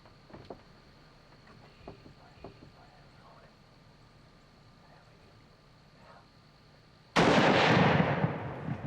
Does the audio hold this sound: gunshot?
yes